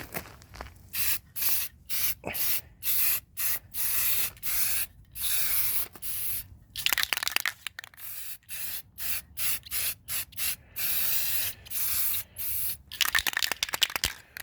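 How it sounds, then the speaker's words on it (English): Short bursts of an aerosol spray-paint can hiss on and off in a rapid irregular rhythm, close by, with brief pauses and light rattling between sprays while painting a shop table. "it's been a while since I've done any spray paint."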